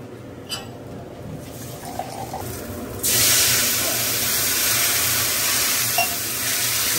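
Water is poured into a pot of curry, a sudden broad hissing sizzle that starts abruptly and continues steadily, loud and close, with no speech over it.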